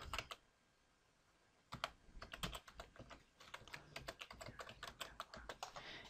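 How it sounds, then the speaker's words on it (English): Fingers tap steadily and fairly quickly on a computer keyboard while a password is entered, a close, soft run of clicks after a brief opening burst and short pause. "Now you're going to type in your password."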